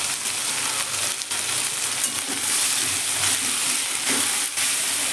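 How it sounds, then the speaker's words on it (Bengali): Mixed vegetables are stirred in hot oil, giving a steady close sizzle with periodic scraping thumps of the spatula against the pan. "সবজিটাকে এবার ভালো করে তেলে আমি নেড়ে নেব।"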